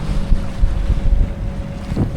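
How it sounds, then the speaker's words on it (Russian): Steady wind rushing over a sailboat on the Mediterranean's Alboran Sea, with building waves washing and slapping against the hull in a continuous, fairly loud roar and no voices. "Волны увеличиваются"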